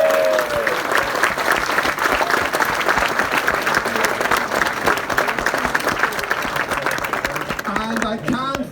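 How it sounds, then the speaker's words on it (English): Steady, full applause from a book festival audience thanking volunteers, dense clapping throughout that tapers off as speech resumes at the end. "Give them a big round of applause."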